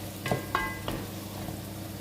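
Tomato paste sizzles in olive oil in a pan for a zucchini dish, with a steady quiet fry broken by a few soft stirring knocks and scrapes close by.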